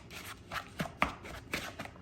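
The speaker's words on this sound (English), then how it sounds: "Next one is the coconut. I want to mix this all in well." Coconut being stirred into a plum crumble topping in a bowl, several soft, close scraping and tapping strokes in quick succession.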